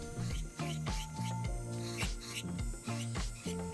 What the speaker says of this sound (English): Now I changed positions of the E-file and I'm going straight up and down to even out the rest